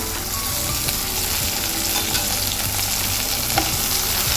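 Steady, continuous sizzling of curry leaves and chopped tomato frying in hot oil for Tamil Nadu tiffin sambar, close and fairly loud, with occasional soft stirring noises and no talking.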